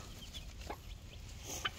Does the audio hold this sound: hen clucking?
yes